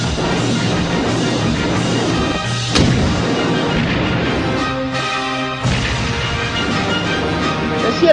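Explosions boom heavily: several loud, broad blasts burst out over a dense, rumbling roar that carries on between them.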